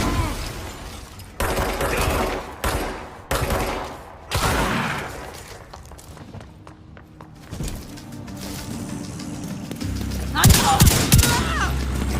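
Gunfire from the video game The Division 2, set in a crumbling Washington, D.C.: loud bursts of shots and rapid volleys come and go, with a brief quieter lull partway through and a heavy burst near the end.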